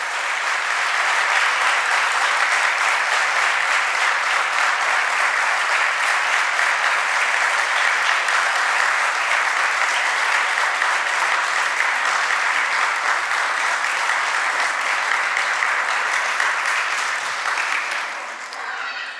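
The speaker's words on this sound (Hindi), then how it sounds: "हम तो चाहते हैं कि 1 मिनट तक सबकी ताली एक जैसी बजनी चाहिए" Sustained, dense audience applause at a Jain community gathering in Tilak Nagar, Indore, steady and loud for nearly twenty seconds before tapering at the end.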